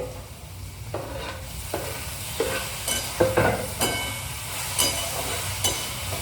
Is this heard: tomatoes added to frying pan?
yes